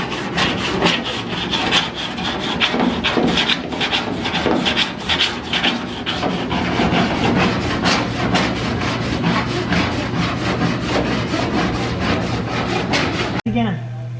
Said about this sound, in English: Dad's still filing away at lead.